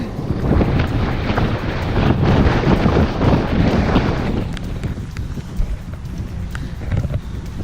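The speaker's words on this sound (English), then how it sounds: "it's really windy here" Strong wind buffets the microphone at a dock in Port Townsend in a loud, continuous roar of low rumbling gusts, easing slightly in the second half.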